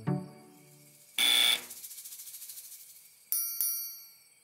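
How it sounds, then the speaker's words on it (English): A cartoon hypnotizing buzzer device sounds in short electronic bursts: a harsh buzz, a pulsing warble, then sharp bright tones, close and alone with no talk. "You can try that buzzer thing if you want, Garfield, but it won't do any good."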